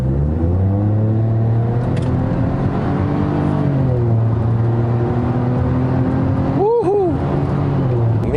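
A modified Proton X50 crossover with a Works Engineering exhaust drones low and steady from inside the car, its pitch rising and falling slightly as the throttle is pressed, with a brief chirp near the end.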